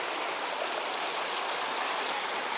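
Thermal spring water streaming steadily through the travertine pools at Pamukkale, a continuous close broadband rush like a small stream, even and unbroken throughout.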